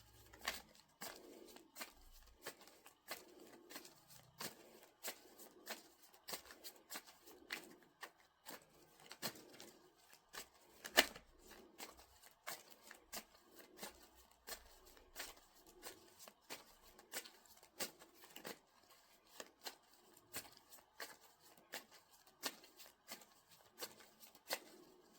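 Tarot cards are shuffled continuously at close range, giving a steady run of crisp riffling snaps and soft slides with one louder snap partway through, and no voices.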